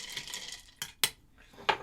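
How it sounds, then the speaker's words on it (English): A spoon stirs an herbal, botanical green gin-style cocktail in a mixing glass, making a soft continuous swirl of ice broken by three sharp clinks against the glass, heard quietly and on its own. "Give that a nice stir."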